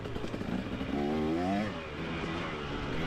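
A dirt motorcycle rides a single-track trail in Goshen early in the season, its engine droning steadily close by and rising in pitch once before settling again, with no voices.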